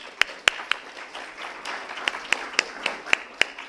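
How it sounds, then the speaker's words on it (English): Sparse, scattered claps from a small audience at an evening event, sharp individual hand strikes at uneven intervals spaced about a quarter second apart, close and distinct. "a resounding round of applause from the audience"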